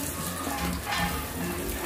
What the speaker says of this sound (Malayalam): ഉരുളി അടുപ്പത്ത് വെച്ച് 1 സ്പൂണ് നെയ്യ് ഒഴിച്ച് കശുവണ്ടിപ്പരിപ്പും കിസ്മസും ഇട്ട് വറുത്തെടുക്കാം